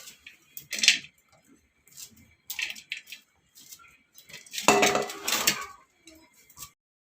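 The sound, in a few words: banana flower being chopped finely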